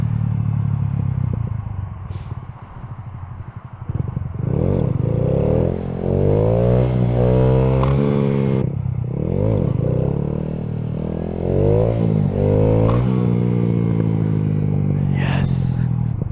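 A 2015 Honda Grom motorcycle engine revs repeatedly during wheelie practice, loud close throttle blips rising and falling in pitch with mechanical clatter, and someone talks over it.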